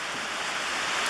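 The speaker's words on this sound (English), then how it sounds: "the rain was beating on the metal roof" Rain beating on a metal tin roof over a garage sheltering a 1988 Ranger 364V boat, a dense continuous hiss of drops, steady and fairly loud with no voices.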